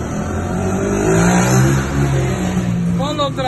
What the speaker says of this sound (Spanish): Otra vez con esos motores.